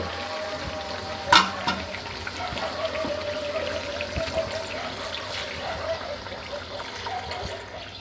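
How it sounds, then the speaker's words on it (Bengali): Water is poured into a pan of sautéed potatoes on a gas stove, making a sharp splash and then a steady hiss and bubbling sizzle that carries on at close range. "এখন আমি আলুগুলো সেদ্ধ করার জন্য দিয়ে দেব জল"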